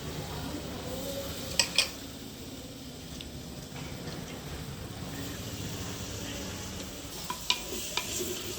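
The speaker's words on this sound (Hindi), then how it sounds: "पहले मैं पत्ता को भी फ्राई करूंगी" Shredded cabbage frying in a clay pot on a clay stove, with a soft continuous sizzle and a few sharp clinks and scrapes of stirring.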